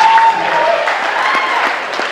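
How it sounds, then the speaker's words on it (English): Applause from a school jazz concert audience for the rhythm section, a steady wash of clapping that stays even for about two seconds, with a brief tone at the start. "we can give them a big round of applause"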